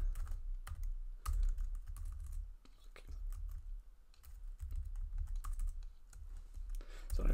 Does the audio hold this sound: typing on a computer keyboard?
yes